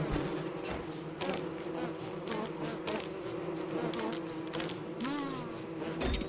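Bees buzz around a beehive in Don't Starve Together, a continuous close, droning hum with overlapping wingbeat tones and a few brief clicks and chirps scattered through.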